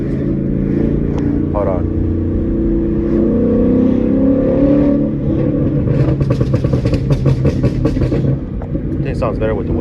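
E85-fueled Ford Mustang GT accelerating hard from a cruise, a loud, dense engine roar with rising revs and rapid crackle near the end, heard from inside the car with a brief spoken remark.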